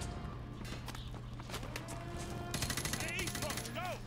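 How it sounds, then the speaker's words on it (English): Gunfire in Call of Duty: Modern Warfare 2, a campaign firefight with rapid bursts layered over a steady low battlefield rumble, growing denser toward the end with whizzing effects. "I'm shooting Captain McNose"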